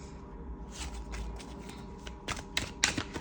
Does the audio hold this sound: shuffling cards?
yes